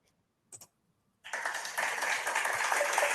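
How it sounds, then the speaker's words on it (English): A canned applause sound effect played at an online capstone project presentation: a brief click, then a sustained wash of crowd clapping and cheering that starts abruptly and continues steadily for about two seconds. "let me get my clapping sound effects"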